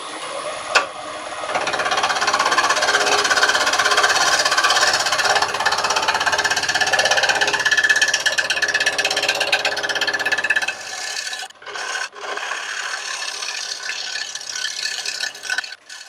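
A woodturning lathe trues up the bottom of a wall plaque, a loud continuous rattling cut that holds steady close by for about ten seconds, then dips and resumes with a brief break and no talk.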